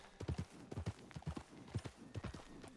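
A horse's hooves clip-clop in a steady, quick walking rhythm in Red Dead Online, moderately close and fairly quiet, with no talk over them.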